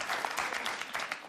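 Studio audience applause fills a talk-show set, with dense, steady clapping at moderate level throughout and no voices above it.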